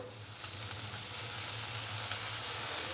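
Chopped green chillies hit a pan of lightly roasted garlic and sizzle steadily, a continuous close frying hiss with a low hum beneath it and no talking.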